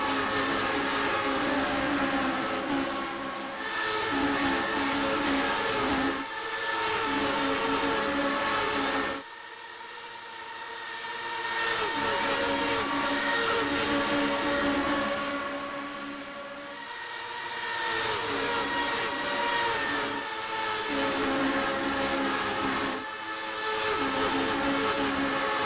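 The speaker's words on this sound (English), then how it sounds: "Love the camera shake with the speed, showing how quick these cars are making their way around the racetrack." Race cars roar around an oval in the iRacing video game during practice for the Fake 500, a dense continuous engine drone that swells and dips as the pack passes, with no voices.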